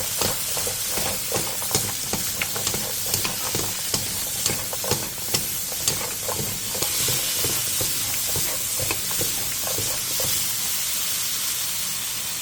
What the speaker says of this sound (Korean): 야채와 다진 마늘 1스푼, 소금 1티스푼을 넣고 센 불에서 3분 정도 볶아주세요